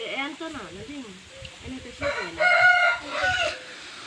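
A lost pet bird, just recovered, lets out loud, tonal, crowing-like calls in the second half, with someone speaking nearby at the start.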